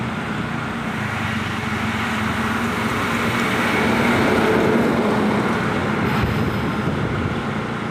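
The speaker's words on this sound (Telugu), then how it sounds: "లారీ పోయింది మా ముందల" A lorry passes on a deserted road at night, a steady broadband rumble and hiss of engine and tyres that swells slightly mid-way then holds, fairly close, with no talk.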